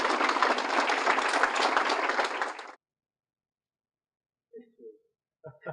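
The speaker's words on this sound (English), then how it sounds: "Just a round of applause." Round of audience applause at a Boys and Girls Club Youth of the Year ceremony as a corporate sponsor receives a plaque, dense clapping that stops abruptly midway, followed by silence and a few faint voice fragments.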